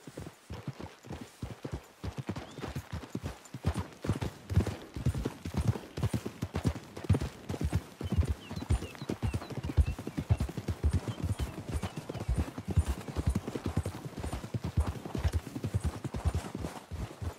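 Horses' hooves clip-clop steadily in the video game Red Dead Redemption 2, a brisk, even rhythm of close, moderately loud hoofbeats that continues throughout with no talk.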